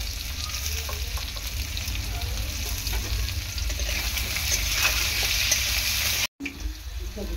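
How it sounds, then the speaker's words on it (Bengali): Salted potatoes fry in hot oil with a loud, steady crackling sizzle that carries on unbroken for several seconds, then cuts out briefly near the end before resuming. "আলুগুলো প্রথমে ভেজে নেব,"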